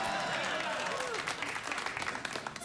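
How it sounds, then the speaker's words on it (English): A television studio audience on a late-night talk show applauds, a steady wash of clapping heard at moderate level that thins out toward the end. "that genuine, sincere applause of a television studio audience"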